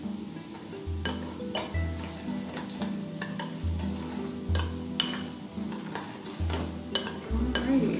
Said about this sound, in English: I'm going to continue to mix a little bit